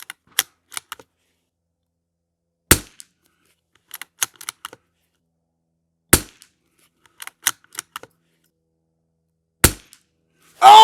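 A Savage Mark II rifle fires on an outdoor range, four sharp separate shots spaced several seconds apart, with fainter clicks of bolt and handling between them.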